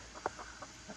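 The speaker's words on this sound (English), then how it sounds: "This is my barred rock pen. I have 6 hens, 1 rooster in here." Barred Rock chickens, hens with a rooster, cluck softly in a backyard pen, a few short, quiet calls scattered over a faint background hum.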